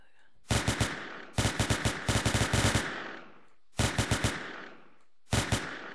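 Bursts of automatic gunfire from a player's weapon in the Roblox video game, four separate rapid volleys of shots with short pauses between them, loud and close with no talking.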